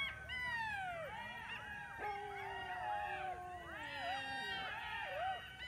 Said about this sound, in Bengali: এক পাশে শিয়াল ডাকাডাকি করতেছে আর এক পাশে কুত্তা ডাকাডাকি করতেছে